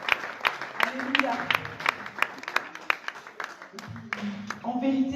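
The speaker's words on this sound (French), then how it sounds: "Je vous invite encore à l'applaudir pour l'encourager à continuer" A church congregation applauding a pastor after a sermon, a burst of clapping with a few sharp, rhythmic claps standing out, while a voice speaks over the applause.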